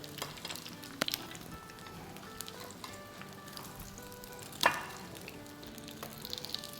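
Chinese chicken bread made without flour, frying in hot oil, gives a steady close crackling sizzle with a few faint clinks and one sharp clatter partway through; no one speaks.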